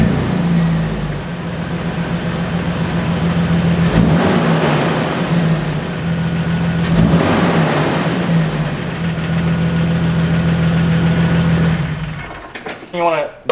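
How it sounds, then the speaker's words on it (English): A Jeep Wrangler TJ with its stock air intake idles steadily and close. The engine is revved twice, swelling and falling back to idle each time, before it cuts off near the end. "we're gonna do the before, do some revs so you can hear what it sounds like"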